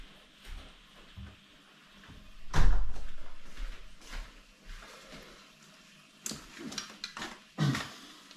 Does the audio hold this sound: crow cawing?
no